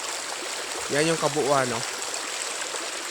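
River water streams steadily along the Quirino Extension river in Narra, Palawan, a constant rushing wash. Someone speaks briefly over it partway through.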